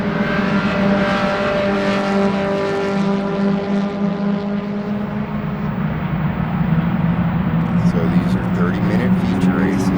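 Race cars in the IT SMX class circle Sebring in close racing through the field, their engines droning and shifting pitch as they pass, with a commentator talking over the noise.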